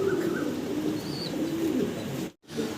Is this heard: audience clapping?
no